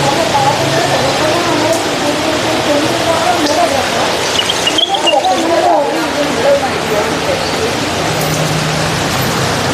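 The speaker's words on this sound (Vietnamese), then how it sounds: "Mưa không ngớt." Heavy, unceasing rain in Hanoi pours as a dense, loud hiss filling the whole stretch, with voices talking over the downpour.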